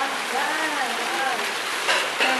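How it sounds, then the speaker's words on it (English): Rain falling at a didgeridoo workshop among rice paddies in Bali, a steady, dense hiss of drops with faint voices underneath throughout. "It's raining. As you know, it does rain in Bali."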